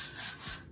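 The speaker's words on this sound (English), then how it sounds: "Just makes life easy to sand this way." Brief rasping rub of hook-and-loop sanding mesh over wood, two quick close strokes, with no voices.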